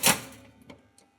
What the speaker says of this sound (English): That's the toaster.